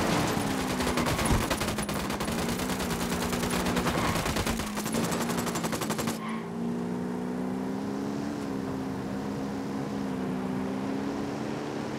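Rapid bursts of gunfire ring out in a military shooter video game, dense automatic fire over a steady engine-like hum for six seconds before the shooting stops and only the low drone continues.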